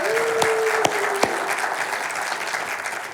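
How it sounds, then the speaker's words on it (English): Auditorium audience at a morning live show applauding, a dense wash of clapping from a large crowd, loud and sustained, with a brief tone and a few sharper claps early on. "Give them a round of applause for sponsoring this."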